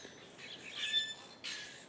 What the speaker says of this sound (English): I love the sound of birds in the morning.